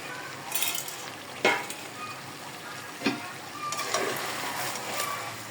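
Unwashed rice and lentils frying together in a pot for bhuna khichuri, a soft steady sizzle with a few sharp stirring clacks of a spoon against the pot, with no voices.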